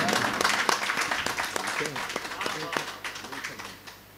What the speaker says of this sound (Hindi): इस बात के लिए तालियां बजनी चाहिए।